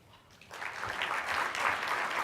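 An audience at the San Marcos State of the City Address applauds event sponsors, clapping swelling quickly into a steady, dense round from a large crowd.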